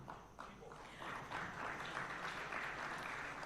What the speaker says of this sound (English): A round of applause as they go to